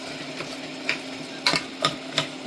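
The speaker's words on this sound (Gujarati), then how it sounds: "પછી એના મસાલાને મિક્સ કરવાના." A spoon stirs a spice masala mix of coriander, cumin and garam masala in a pan, giving several sharp scraping clinks at an uneven pace over a low steady hum.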